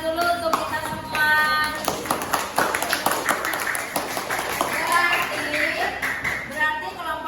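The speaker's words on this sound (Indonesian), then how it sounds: "Tepuk tangan dulu untuk kita semua." A classroom group claps together for about seven seconds in steady, fairly loud applause that rises and falls slightly, with children's voices and shuffling mixed in.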